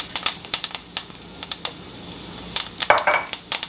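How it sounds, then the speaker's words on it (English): Curry powder sautéing with thyme and ginger in a pan for Jamaican curry chicken feet, giving a soft sizzle broken by quick clicking stirs and utensil taps against the pan. "while I'm sauteing my curry powder"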